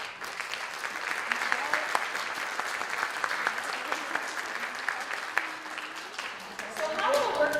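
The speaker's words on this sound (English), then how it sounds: "I want to give a round of applause to all of those artists in the book" An audience at a celebration of creative works applauds for the artists, a sustained, even wash of many hands clapping, moderately loud, with a few voices coming in toward the end.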